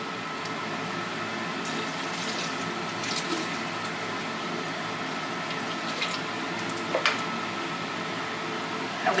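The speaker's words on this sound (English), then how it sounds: "I'll rinse this off with some distilled water here" Distilled water washes over a freshly refined bar of pure gold, giving a quiet, continuous wash of running liquid. A few faint knocks and taps sit underneath the flow.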